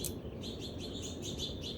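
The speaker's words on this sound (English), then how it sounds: "If you can hear those birds back there, but they're a little rambunctious today" Small finches at a new backyard bird feeder, chirping and squabbling in quick bursts of high, thin tweets repeating through the clip over a steady low background rumble.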